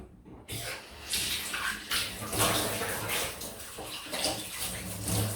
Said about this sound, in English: excuse the sound of running water, I'm just going to rinse my face in ice cold tap water